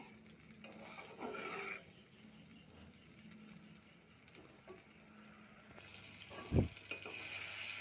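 Turmeric and chili powder paste sizzles and fries in a pan, a steady crackling hiss with brief stirring scrapes and a sharp clatter near the end, no talk.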